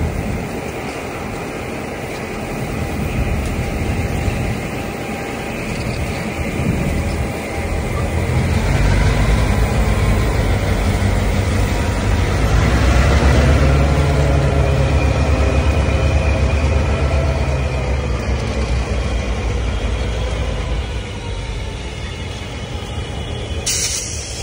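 A CN local freight train pulls into Alexandria, Ontario, with a low, steady rumble and a broad hiss of air and wheels. The noise swells gradually as the train draws nearer, and it runs on without any voices.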